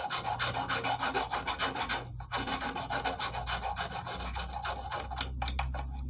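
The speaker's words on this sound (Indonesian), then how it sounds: "Bagian ininya pakai kikir opal aja." A hand file works a small piston part close up, making steady rhythmic rasping strokes with brief pauses between passes and no talking.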